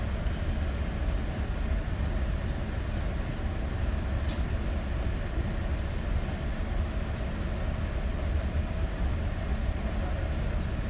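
An exo commuter train on the Mascouche Line pulls out of Ahuntsic station on a winter evening, a steady loud low rumble of wheels and engine rolling on without a break.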